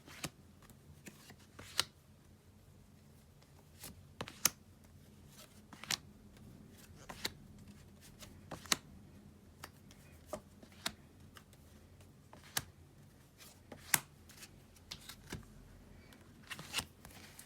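Playing cards shuffled for a card reading, a run of sharp riffling snaps and soft slides repeating at uneven intervals over about seventeen seconds, close and fairly quiet with no talk.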